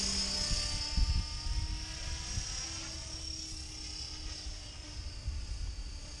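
A class 500 remote-controlled model helicopter flies nearby with a steady high-pitched rotor whine and buzzing motor drone, continuous and fairly loud, with low wind rumble underneath.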